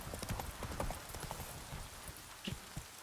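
Roach the horse galloping in Witcher 3, a steady rhythmic clip-clop of hooves at moderate loudness, close and continuous with no talk.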